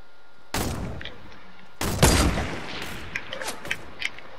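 Gunfire in a shooting video game: two loud, sharp shots with a rumbling tail, the second stronger, followed by scattered fainter pops and clicks from the game.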